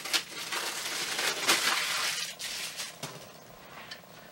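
A plastic wrapper is pulled off a water pre-filter cartridge, giving quiet, close crinkling and crackling in irregular bursts over a few seconds.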